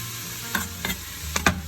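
Soffritto gets stirred in a frying pan: a low sizzle with a few brief scraping strokes of the spoon, close and short, no talking.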